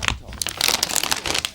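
Beer cans being crumpled give a dense, continuous crinkling and crunching of thin metal, close and fairly loud, with no talking.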